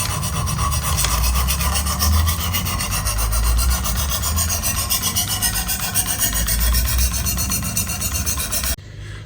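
A knife is sharpened on a Work Sharp Precision Adjust Elite with a 320-grit stone, a close, steady scraping rasp of rapid strokes that stops abruptly near the end.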